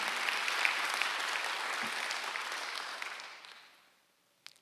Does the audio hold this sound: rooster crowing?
no